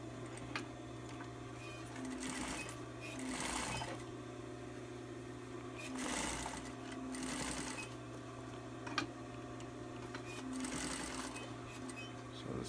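Sewing machine top stitching a six-panel cap, bursts of rapid mechanical stitching alternating with pauses and a steady motor hum, close and fairly quiet.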